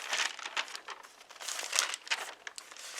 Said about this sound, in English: I grabbed a piece of paper just like this